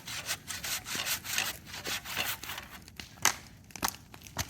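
A piece of wood being sawn by hand, heard as close, steady back-and-forth rasping strokes in an even rhythm, with a few sharper crackles near the end and no voices.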